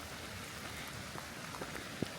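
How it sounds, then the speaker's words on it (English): Light rain falls in New Hampshire's Rocky Gorge area, a faint, steady patter with a few scattered drops tapping nearby and one slightly louder drip near the end. "I love that it's raining."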